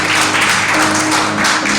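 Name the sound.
congregation applauding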